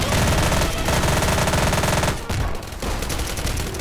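Rapid, sustained automatic gunfire from the infinity gun in Garry's Mod, loud and close, firing continuously with a brief break near the end before resuming.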